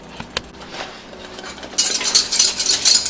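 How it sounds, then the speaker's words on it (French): A spoon or utensil stirs and scrapes a mushroom cream sauce in a pan, with soft clinks early and then a steady, fairly loud wet scraping and swishing in the second half. "On fait sûr de bien mélanger notre crème de champignons pour pas que ça colle dans le fond."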